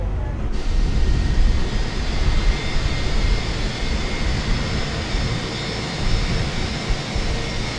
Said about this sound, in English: Waiting your confirmation for good engine start.